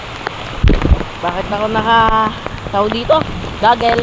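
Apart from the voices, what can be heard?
rain falling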